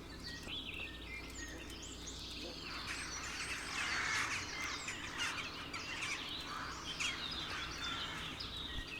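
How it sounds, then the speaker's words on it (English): Birds chirp and twitter in a forest in the video game Kingdom Come Deliverance, a busy chorus of overlapping calls that swells midway over a steady low ambient bed. "Seemed like there was some kind of ruckus over here with the birds."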